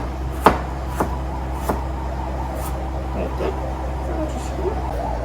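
Knife cutting vegetables into thin julienne strips for japchae on a cutting board, a few sharp, separate chops spaced about half a second apart, then softer cuts under a low steady background hum.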